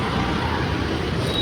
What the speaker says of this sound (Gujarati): ટ્રાફિક જુઓ ખાલી કેટલી બધી ટ્રાફિક છે